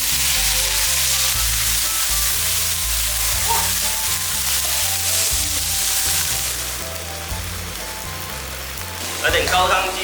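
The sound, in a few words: dried shrimp frying in a wok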